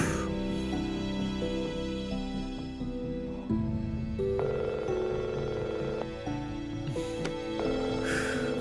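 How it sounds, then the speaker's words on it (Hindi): A telephone ringing in a Turkish drama scene, with repeated electronic ringtone bursts over dramatic background music. "फोन उठाओ"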